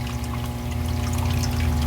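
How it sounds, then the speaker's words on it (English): Water draining from a guppy pond, a steady close pouring trickle with a constant low hum from the flow, continuous and unbroken with no talk. "now we got the water draining down here."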